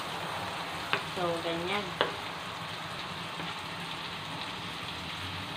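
Onion frying with garlic in a pan for ginisang mongo, a steady close sizzle throughout with a couple of utensil knocks, while a person briefly speaks over it.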